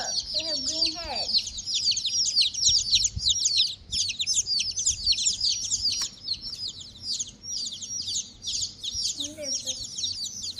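Baby chicks chirp nonstop in a brooder lined with wood chips, a dense, high-pitched peeping chorus close by, with a voice briefly speaking at the start and again near the end.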